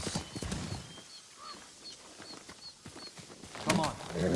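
Horse hooves clop over ground with a few snorts, set in the samurai video game Ghost of Tsushima, heard fairly faint beneath game dialogue and ambient sounds.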